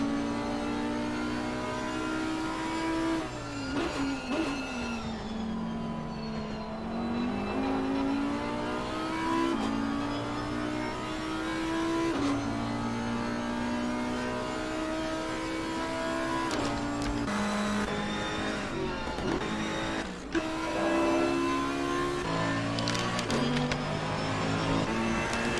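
Race car engines in Assetto Corsa Competizione at Bathurst rev and shift repeatedly, with rising and falling engine whines and gear changes continuing steadily for the whole stretch, and no talk.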